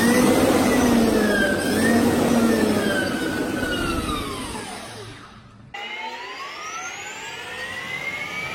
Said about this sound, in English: This is how a Tesla electric engine sounds.